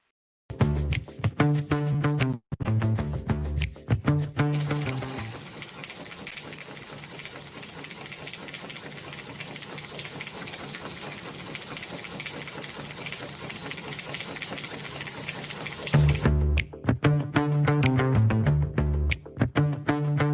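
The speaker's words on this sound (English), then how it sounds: "All right, fast printing and no sacrifice to printout quality." A POSTEK 300 DPI label printer runs at high speed. Bursts of rapid mechanical chatter and clicking frame a long, steady whirring stretch of printing, heard close and alone.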